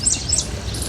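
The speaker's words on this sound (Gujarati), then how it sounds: "ગામડાની અંદર એકદમ શાંત વાતાવરણ છે અને ચકલાઓની ચીચીનો અવાજ છે" Sparrows give a few quick, high chirps on a quiet, foggy village morning, two or three brief notes over a soft steady background.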